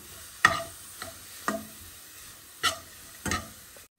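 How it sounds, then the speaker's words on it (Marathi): Turmeric and kokum are frying in a pan, giving a faint sizzle broken by about five sharp stirring clatters spaced through the few seconds, close and with no voices. "आतां मातशें फ्राय करून घेता."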